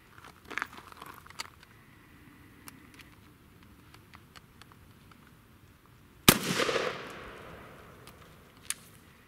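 A single sharp blast from a Mossberg 590 Shockwave pump shotgun, fired outdoors, with a loud crack followed by a lingering echo that decays over a couple of seconds amid quiet background clicks.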